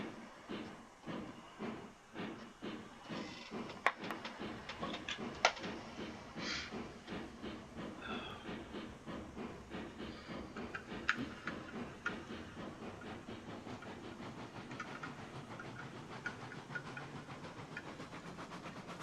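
A steam locomotive in the Railroads Online video game chuffs along in a steady rhythmic beat with hissing steam, moderately loud and continuous.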